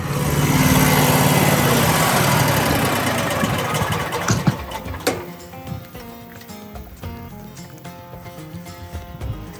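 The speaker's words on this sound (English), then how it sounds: "Looks like Scott is done mowing." A lawn mower engine runs loud and steady at first, then fades and becomes quieter and uneven as mowing winds down, with scattered knocks and clatter toward the end.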